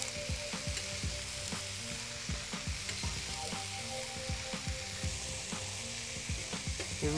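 Lamb sausages and spring onions sizzle steadily on a hot plancha, a dense close crackle punctuated by sharper pops and light scraping as the food is turned.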